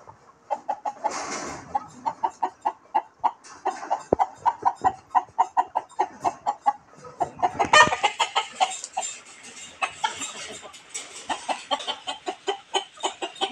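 Native chickens cluck busily while being fed, a dense run of short, rhythmic clucks close by with a brief louder flurry of squawks midway, no talking over them.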